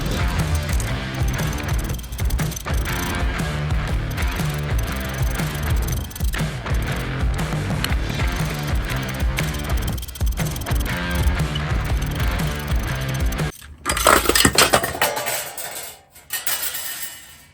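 A ratchet wrench works loose the flywheel bolts on an Audi A3 8P during a clutch upgrade, a brief burst of mechanical clicking near the end, after a long stretch of background music.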